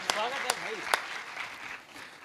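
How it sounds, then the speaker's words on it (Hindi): Audience applause at an Indian satirical election poetry recital, a few sharp claps and light clapping under a speaking voice, moderately loud and fading toward the end. "एक बार जोरदार तालियों से मुझे"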